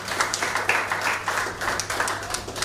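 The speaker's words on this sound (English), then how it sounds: "Please give yourselves a big round of applause" A room of graduates and guests at a reception applauds, with close, fairly loud clapping that pulses in uneven waves throughout, and a steady low hum underneath.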